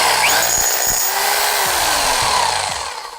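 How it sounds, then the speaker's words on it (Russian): A loud, continuous rotary hammer drill whine with rough grinding noise runs throughout, powered by a generator, joined by a few low thuds, fading slightly at the end. "Это перфоратор. Я даже могу что-нибудь им просверлить."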